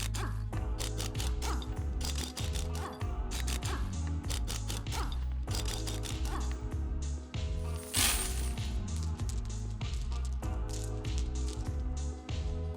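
A small, plain screwdriver backs out a long series of tiny screws from a Motorola Moto G Power 2025 phone during a repair, making close, continuous ratcheting clicks and metallic ticks for the whole stretch.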